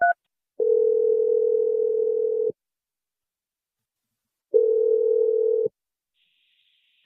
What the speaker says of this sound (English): we're going to dial her number right now